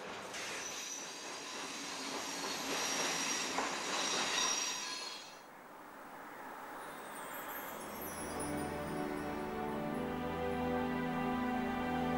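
A train on Sweden's Malmbanan line departing Kiruna rolls steadily along the rails with a broad hissing rush of wheels, easing into a lower rumble with faint metallic squeals.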